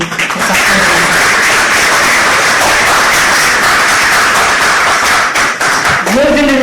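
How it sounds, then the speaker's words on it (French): An audience at a Senegalese gathering in support of Venezuela gives a guest loud, dense applause that holds steady throughout, with a voice briefly audible near the end. "J'aimerais que vous l'applaudissiez pour sa présence."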